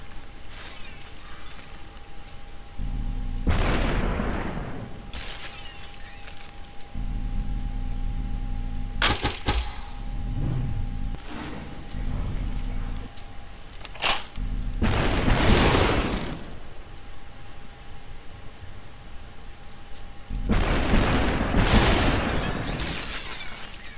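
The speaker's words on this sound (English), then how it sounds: "Shotguns, man, they're so hard to dodge." Shotgun blasts in the game SuperHot, several loud, widely spaced booming shots, each with a short shattering tail, over a low steady hum.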